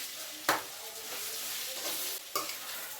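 A beetroot and carrot fry sizzles steadily in a pan, a dense hiss with two sharp stirring scrapes of a spoon, close by and with no talking.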